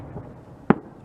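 A single sharp firework burst lands near the end, loud and close, with quiet background before it.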